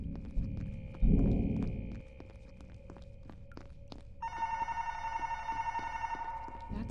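A telephone rings in a video game, its repeated electronic trill arriving partway through and pulsing steadily above an ambient room hum, with thuds and low rumbles earlier.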